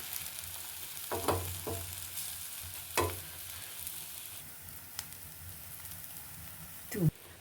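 A masala egg omelette fries on its second side in a hot pan, with a low continuous sizzle broken by several distinct spatula scrapes and knocks, one loud clatter near the end.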